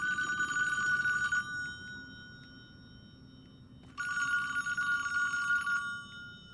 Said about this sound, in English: Now, where's that darn phone at?